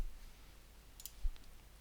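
A mouse click on a software button in PixInsight astro-image processing software, heard as a couple of faint, brief clicks around the middle of an otherwise quiet room tone with no talk.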